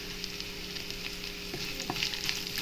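Long-sliced big onion frying in oil for rice upma, a constant moderate sizzle with a few spatula knocks and stirring scrapes in the second half, no talking.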